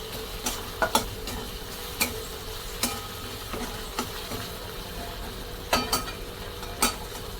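Red chili powder and turmeric being stirred into a frying pan for a dal and methi dish, sharp spoon scrapes and clicks repeating irregularly over a constant sizzle, close and fairly loud.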